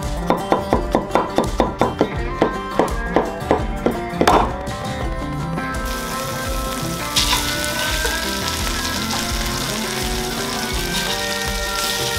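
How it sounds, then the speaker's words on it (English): Wild turkey legs browning in a pot for soup, a steady close sizzle of frying with a run of sharp rhythmic clicks early on, then a fuller, even hiss that carries on alone. "Lightly brown them up all the way around to add some more layers of flavor."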